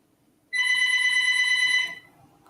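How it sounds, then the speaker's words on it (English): A house phone gives a single loud electronic ring lasting about a second and a half, then falls silent over a quiet room. "The house phone is ringing."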